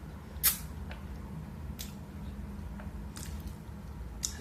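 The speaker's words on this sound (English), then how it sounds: "stuff is just dripping and splashing" Seafood boil with king crab, lobster and jumbo shrimp, liquid dripping and splashing outdoors, a few faint sharp wet splats and drips scattered over a quiet background hum, with no voices.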